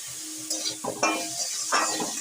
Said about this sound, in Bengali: বেশিক্ষণ ভাজা হবে না, কিন্তু একটু নাড়িয়ে নেবো।